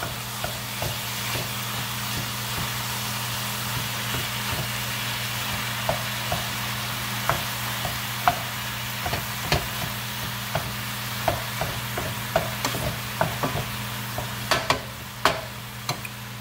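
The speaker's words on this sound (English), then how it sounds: "you can add the whole thing of the turkey. We're just going to break that up" Ground turkey frying in a pan as a cook breaks it up with a utensil, a steady sizzle under a low hum, punctuated by irregular scraping and tapping strokes that grow more frequent.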